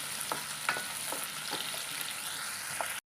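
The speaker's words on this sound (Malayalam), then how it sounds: "കുറച്ച് തക്കാളി ചേർത്ത് കൊടുക്കാം. നന്നായിട്ടൊന്ന് വഴറ്റിയെടുക്കാം." Tomatoes and curry leaves sauté in a hot pan for onion sambar, a steady crackling sizzle with a few sharper pops and spatula stirs scattered through the short stretch, no voices.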